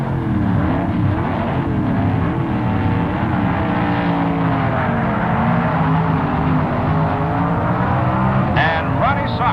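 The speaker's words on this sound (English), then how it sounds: "The Corvette leaves first with the handicap." A Chevrolet Corvette F-modified production drag racer launches with a loud, steady engine roar filling the air, holding strong and unbroken from start to finish, with faint sharper noises near the end.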